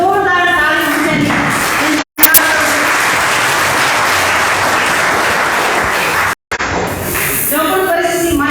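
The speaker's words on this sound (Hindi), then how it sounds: "एक बार जोरदार ताली होनी चाहिए।" Loud, dense audience applause at a Hindi-language event, sustained clapping broken by two brief dropouts, with a voice heard at the start and end.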